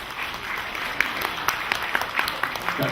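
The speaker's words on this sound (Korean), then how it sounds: "여러분 박수로 받아주시기 바랍니다." Soft, diffuse audience applause fills a Korean association general assembly hall, a steady wash of many hands with a few sharper claps poking through, heard at some distance.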